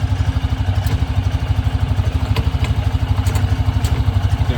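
A Hisun Axis 500 UTV engine runs loud and close with a steady, rapid low thumping pulse, light clunks from the transmission as gears are shifted, no talking.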